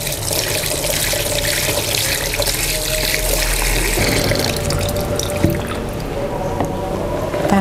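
Steady running and splashing water as fruit pieces for halua candy are washed by hand, continuous and close with small sloshes throughout.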